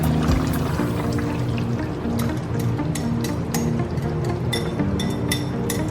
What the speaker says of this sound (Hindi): अब मैं इसमें दही डालने जा रहा हूँ।